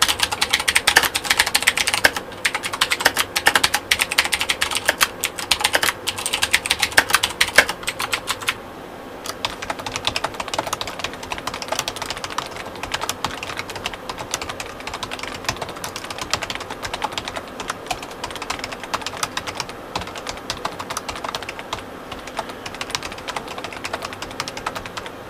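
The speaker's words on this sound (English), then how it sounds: "this keyboard is a lot louder, but that's kind of what you expect with mechanical keyboards" Rapid, continuous typing on a loud, full-size Razer mechanical keyboard, with dense clattering keystrokes close up. The typing is heaviest for the first eight seconds, then carries on slightly softer with no talking.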